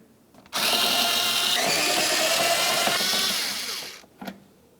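A power driver spins out Phillips head screws holding the fender liner of a 2010-2013 Ford Transit Connect, one loud continuous whir of about three seconds that winds down, followed by a short clunk.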